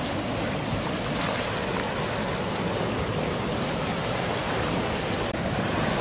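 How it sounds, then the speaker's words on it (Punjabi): Water rushing along a village canal that carries water to the village, a dense, steady roar of flow that stays loud and unchanging throughout. "ਯੇ ਹੈ ਜਨਾਬ ਇੱਕ ਨਹਿਰ"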